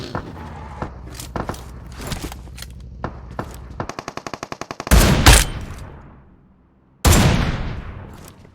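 Gunfire in the mobile battle-royale game PUBG Mobile, with a Groza assault rifle in use: scattered single shots and footsteps, then a rapid automatic burst, followed by two loud, close blasts that ring out and decay, each with a long tail.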